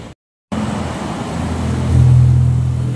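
Heavy road traffic in a jam on the way to a hotel sounds as a continuous car rumble after a short dropout, swelling louder as a vehicle draws near.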